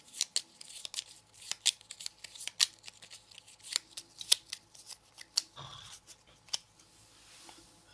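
Cards being shuffled by hand during a Paladins of the West Kingdom board game, a series of quick crisp flicks and riffles with a brief rustle in the middle, close but quiet, no talk over them.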